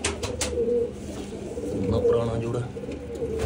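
Pigeons in breeding boxes coo in low rolling phrases nearby while someone talks over them.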